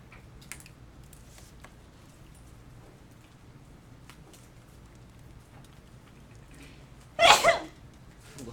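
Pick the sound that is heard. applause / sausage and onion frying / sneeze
sneeze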